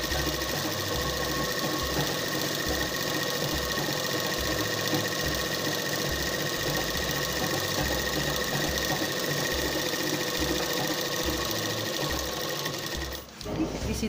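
A sewing machine stitching the side seam of designer shorts, running as a close, continuous mechanical whir with a rapid regular needle beat throughout, stopping briefly near the end.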